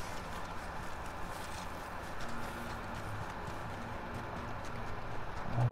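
Horse hooves gallop at a steady, rapid clip-clop in Red Dead Redemption 2, close and continuous over a low bed of ambient game sound.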